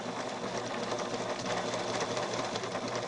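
A sewing machine back tacks the center front seam of a doll's torso top, using an applique foot. It runs at a steady, close, continuous hum for a few seconds, with no voices.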